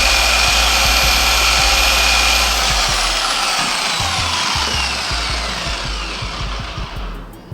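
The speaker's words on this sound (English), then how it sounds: "So these are the dual action polisher ranges." Dual action car detailing polisher running continuously, a loud steady machine whir with a rhythmic low thumping that gradually fades toward the end, no voices.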